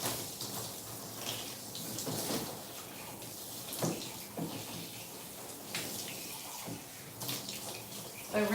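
Running water from a tap rinses a doodle dog during a bath, a steady broadband splashing and gushing that rises and falls as the stream moves over the coat, close and fairly loud, with no talking.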